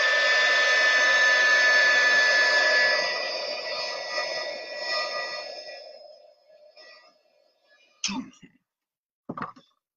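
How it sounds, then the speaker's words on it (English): A heat gun blows hot air over a layer of a handmade paper card, a steady loud whirring blast that winds down and fades out after about six seconds, followed by two short bursts of voice. "I'm going to take the heat gun and heat this up so that I can put a second layer."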